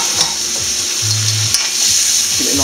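Seafood pasta with black pepper sizzling steadily in a hot pan, with a spoon scraping and stirring in short, irregular strokes, close and clear with no talking.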